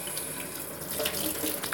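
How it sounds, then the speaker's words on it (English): Warm water runs from a tap into a bucket as a steady, close splashing rush that holds at an even level throughout, with no one talking. "And then I gotta get the warm water going."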